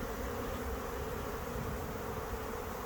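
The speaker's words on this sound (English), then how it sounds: "Loads of bees piling in." A dense, continuous buzz of many honeybees, steady and close, with no other sounds.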